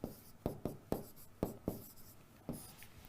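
Pen strokes on paper while jotting notes in a Hindi-language lecture on the Indian constitution, seven quick scratchy strokes in an uneven rhythm, close and clear with no talking.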